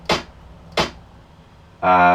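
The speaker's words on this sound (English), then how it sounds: "but a snare with a bit of a delay on it" An extra snare drum with a delay effect on it cracks twice in quick succession, each hit sharp and trailing off, before a voice starts talking.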